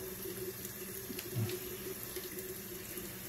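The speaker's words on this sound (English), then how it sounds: "I've been having hot water running on my towel, keeping it warm" Hot water running steadily from a tap onto a towel while preparing for a straight razor shave, a continuous close splashing hiss with a brief louder gurgle midway, no voices.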